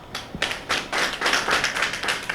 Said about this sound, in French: Je voudrais d'abord que vous l'acclamiez pour ça.